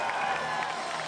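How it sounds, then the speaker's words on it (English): A crowd cheers and roars at a chessboxing championship bout, forming a steady, loud, dense wall of noise throughout. "Crowd going wild."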